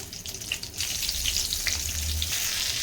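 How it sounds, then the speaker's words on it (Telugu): Stuffed brinjal fries in a small amount of oil, making a continuous close sizzle with light stirring clicks and soft crackles. No voices are heard. "చక్కగా నూనెలో అయితే వేయించేసుకుంటున్నాను"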